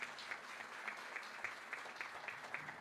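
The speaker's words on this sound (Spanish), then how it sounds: "para quien pido un fuerte aplauso" Audience applause at a book presentation, a quiet, steady patter of many hands clapping at a distance, with no voices over it.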